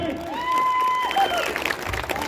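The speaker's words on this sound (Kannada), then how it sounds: "ಅವ್ರಿಗೆ ಜೋರಾಗಿ ಚಪ್ಪಾಳೆ" An audience at a live stage show with dancers and performers gives a brief burst of clapping. It rises under a held tone and swells for about two seconds, with a voice partly over it.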